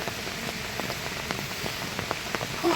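Steady rain falls nonstop on a rural hut area, with a constant hiss and scattered individual drop impacts close by.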